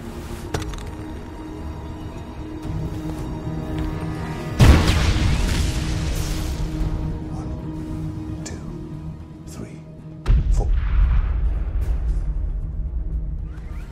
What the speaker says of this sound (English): Keep the phone on so I can hear the explosion.